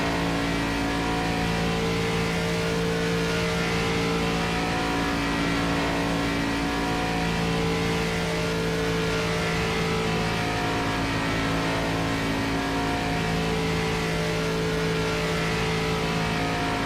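Race car engines in the iRacing simulator drone and rev continuously, a loud, close, steady tonal roar with strong harmonic whine that rises and falls slightly across the whole stretch, with no talking over it.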